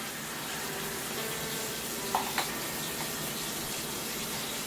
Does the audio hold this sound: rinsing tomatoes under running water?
yes